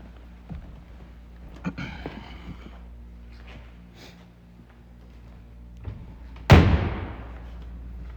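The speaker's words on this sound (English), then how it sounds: "Nice solid German door close there." Quiet handling noises and faint clicks lead up to one sharp, heavy car door slam on a Mercedes-Benz 300 SEL, a solid close thud that decays quickly.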